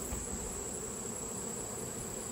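Honey bees buzz around hive frames during bulk feeding, a dense, steady drone that holds close and even throughout, with no voices.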